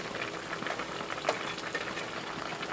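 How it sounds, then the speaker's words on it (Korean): Pork kimchi stew with tofu and enoki mushrooms simmers in a covered pot, a soft, steady bubbling with faint pops, quiet and close, no voices. "채소들이 약간 익을 때까지 뚜껑을 닫고 한 소끔 끓여주겠습니다."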